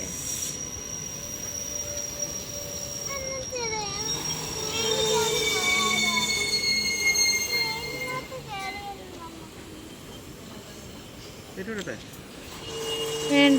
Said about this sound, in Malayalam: നമ്മൾ ചുമ്മാ ട്രെയിൻ കാണാൻ വന്നേല്ലേ.